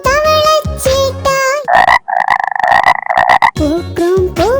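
A cartoon frog croaks in a children's song, with sung, voice-imitated croaks in a loud, rhythmic burst between passages of singing.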